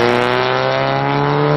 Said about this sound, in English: the BP engine on a Miata, like my own, sounds like ass